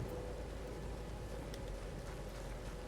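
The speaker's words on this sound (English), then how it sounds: "Just all of a sudden it's coming a downpour." Sudden heavy downpour in the Red Dead Online game world, a dense, even hiss of rain that stays steady and fairly faint, with no voices over it.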